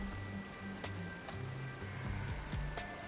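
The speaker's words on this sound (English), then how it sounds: "They don't seem to care one bit about the unending rain." Steady, unending rain falls on the streets of a town in the video game Rain Code Plus, a dense continuous patter heard at low level with scattered sharper drips and faint tonal game sounds underneath.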